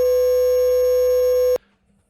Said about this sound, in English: I skipped ahead for you guys because that was a long-ass beep